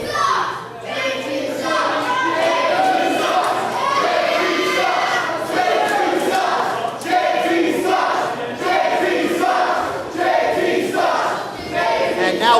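A crowd at a live wrestling main event shouts and cheers throughout, a loud steady roar with rising chants and yells, and a commentator talks over it.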